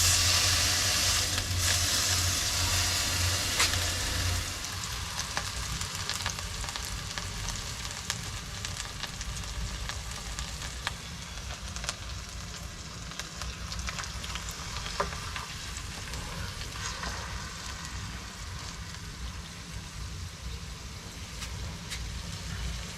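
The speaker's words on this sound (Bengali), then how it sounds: "ম্যারিনেশন করা ছিল সেটা নিয়ে এসেছি, সেটাকে এবার ফ্রাই করব" Marinated chicken frying on a camping stove on a rooftop, a loud continuous sizzle with crackling spatters, stronger at first and then settling into a steady hiss with occasional stirring clinks.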